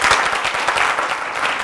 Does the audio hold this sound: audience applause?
yes